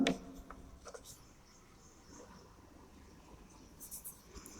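A pen or pencil drawing a horizontal line across paper for a cam profile construction, a soft, steady scratchy rub lasting several seconds, faint and close.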